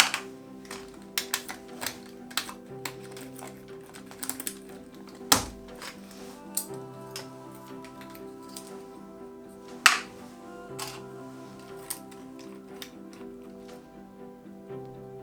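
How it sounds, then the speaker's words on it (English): Plastic keyboard keycaps being dropped and placed into numbered containers during a retrobrighting project, a scattered series of sharp clicks and taps with a few louder clacks, close and otherwise quiet. "I'm going to put these keys in these containers, which has numbers"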